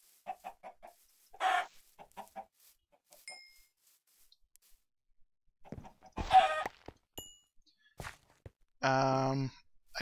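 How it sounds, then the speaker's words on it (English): Minecraft chickens let out scattered short clucks and squawks, with a louder burst midway and a longer harmonic cry near the end, separated by quiet gaps. "Motherfucking chickens."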